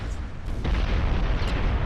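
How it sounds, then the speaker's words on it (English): Heavy 14-inch naval cannon fire in the warship game Ultimate Admiral Dreadnoughts, deep rumbling booms rolling into one another, loud and sustained without speech. "That would be 14-inch cannons."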